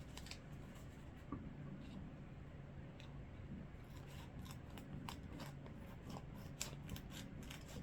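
Scissors snipping off the end of a plastic vacuum packing bag of ground chuck, faint repeated cuts over a low kitchen hum, growing more frequent toward the end.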